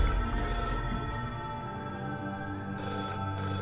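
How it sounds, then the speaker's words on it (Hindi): A telephone rings with a steady electronic tone, sounding continuously at moderate volume over a faint background hum. "उस टेलीफोन के बजने की आवाज आई"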